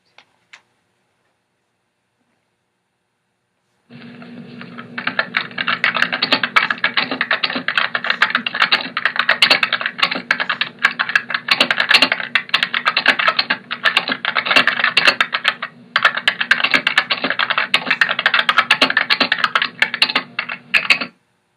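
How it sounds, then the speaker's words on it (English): Continuous rapid typing on a computer keyboard, close and clear, a steady patter of key clicks with brief pauses, after a few seconds of silence. "it's typing. Keyboard."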